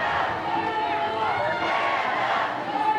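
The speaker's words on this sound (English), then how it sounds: "Energetic crowd here." An energetic crowd roars at a college softball game between Minnesota and Alabama, a dense, steady wall of voices and cheers throughout.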